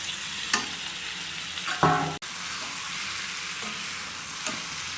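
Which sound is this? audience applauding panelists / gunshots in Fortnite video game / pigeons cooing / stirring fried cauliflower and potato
stirring fried cauliflower and potato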